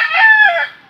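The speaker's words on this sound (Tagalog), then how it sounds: "Ito ang ating mga alagang manok panabong guys." A fighting rooster kept in a small backyard farm crows once, loud and close, a single drawn-out call that fades at the end.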